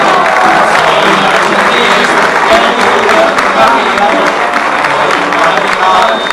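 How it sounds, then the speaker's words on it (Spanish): Loud, sustained applause and crowd noise for a mariachi band, clapping blending with cheering and voices at close range. "Un aplauso al mariachi, por favor."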